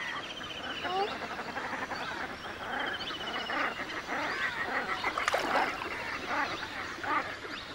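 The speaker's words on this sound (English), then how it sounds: "The waters teem with ruddy shell ducks." Ruddy shelducks call across the water in Chitwan, a chorus of honking, goose-like calls at moderate distance over a steady outdoor background, with a narrator talking over them.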